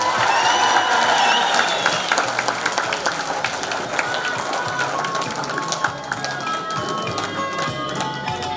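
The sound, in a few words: audience applause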